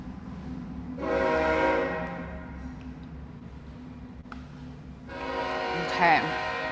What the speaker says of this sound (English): I'll let the train pass for a second